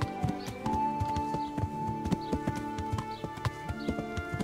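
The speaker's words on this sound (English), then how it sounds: "I'm trying to find a proper place to tie my horse." Horse hooves clip-clop steadily in Kingdom Come: Deliverance, a close, even rhythm of hoof strikes over a sustained musical background with no talk.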